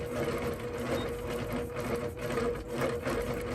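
A stitch-regulated quilting machine sews small meandering patterns, giving a steady rapid mechanical whir and ticking with slight speed shifts as it moves, close and continuous without talking.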